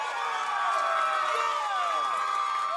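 A crowd of fans at Tony Luke's cheesesteak shop cheers and whoops steadily around a competitive eater finishing a five-pound cheesesteak, a continuous bright roar of voices lasting the whole moment.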